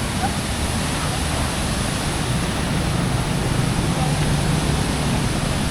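A strong river current rushes past nearby, making a dense, unbroken roar that stays even from start to finish.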